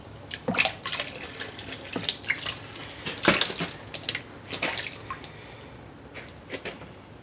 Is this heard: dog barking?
no